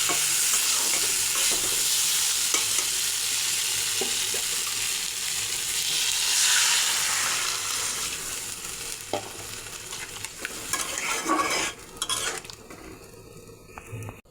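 Sautéed tomato and potato curry for a spicy puti fish dish sizzles loudly while a spoon stirs and scrapes the pan continuously, followed by quieter clinks and utensil knocks near the end.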